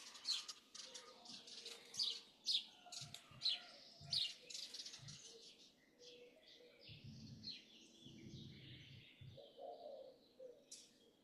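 Several birds chirp and tweet outdoors, with bright repeated calls through the first half giving way to softer, more scattered song, and a dove-like coo appears to sound in low pulses between them.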